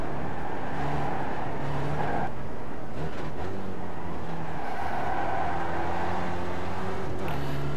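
Spec Racer Ford race car engine at Barber Motorsports Park in the iRacing simulator, droning steadily at full throttle with pitch shifts through upshifts and brief lifts, loud and close with no talk.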